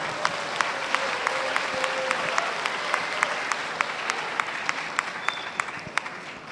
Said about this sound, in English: please give a warm round of applause to Pak Andika once again.